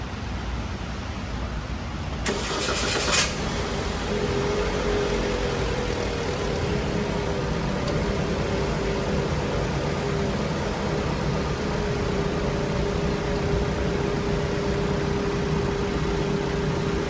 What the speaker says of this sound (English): Now I'm going to turn the engine on and see what we got.